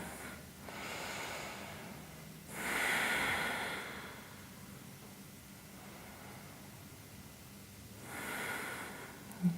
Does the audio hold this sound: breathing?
yes